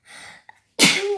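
A short intake of breath, then a single loud, close sneeze with a brief tonal tail.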